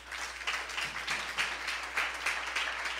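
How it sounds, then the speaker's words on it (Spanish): Congregation at a church service applauding together, a moderately distant, steady wash of many hands clapping in loose pulsing waves throughout. "Dale un aplauso al Rey."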